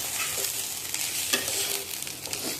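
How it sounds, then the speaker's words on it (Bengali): Rice frying in ghee and oil, a continuous close sizzle with scraping spatula strokes stirring the grains, no talking. "চালটা দিয়ে ভালো করে ভাজতে হবে। তারপর চালটা ভাজবো।"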